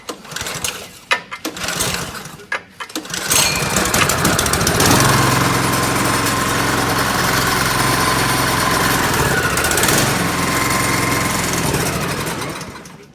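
A new 24-inch two-stage snow blower engine sputters through a few quick pulls, then catches and settles into a loud, steady running drone close by.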